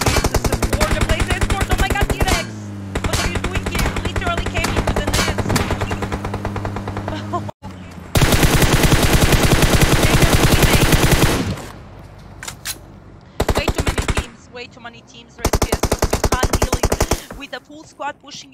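Dense automatic gunfire from PUBG Mobile tournament play crackles in long sustained bursts, with short gaps and sudden cutoffs, loud and close throughout.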